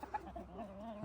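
Backyard chickens cluck softly near a campsite tent, a few faint, close, warbling calls in quick succession with no talk.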